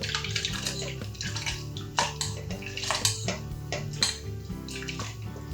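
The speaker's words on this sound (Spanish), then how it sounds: "Y lo vertemos todo en un vaso batidor." Soaked red lentils and their water pour into a blender cup, a splashing, gurgling stream with small knocks and drips over a few seconds, close and fairly quiet.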